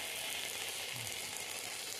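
Homegrown eggplant slices frying in a pan give off a faint, continuous broadband sizzle with water added, an even hiss without pauses from start to finish.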